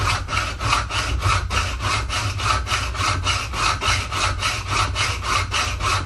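A hacksaw cuts through threaded all-thread rod in a shop, a close, loud, rhythmic rasping with steady back-and-forth strokes that continue without pause.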